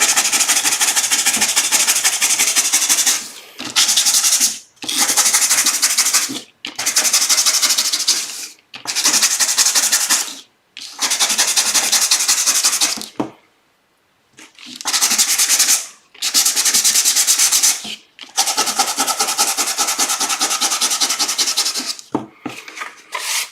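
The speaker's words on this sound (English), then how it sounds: "I think it's called sanded with sanding paper." Repeated rough scratching of sandpaper rubbing on card, loud and close, in a series of bursts separated by short pauses.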